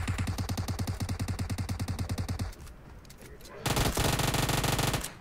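Automatic gunfire in the PUBG Mobile video game, a fast rattling burst of rapid shots, loud and close, a brief lull, then another dense sustained burst.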